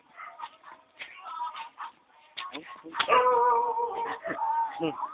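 A dog whimpers and yips in short, high whiny bursts close by, with a longer drawn-out whine near the middle, amid brief human voices.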